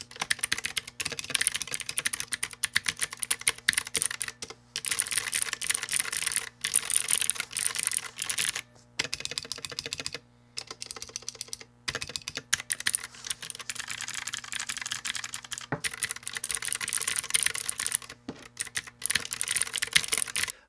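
Rapid, steady typing on a KEBOHUB EE01 mechanical keyboard with a built-in 5-port hub. Crisp, close keystrokes run nearly continuously, with a few brief pauses between bursts.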